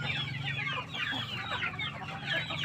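A plump Basilan chicken kept as a pet, with a swollen sac protruding from its vent, clucks in a steady run of soft, close calls over a low background hum.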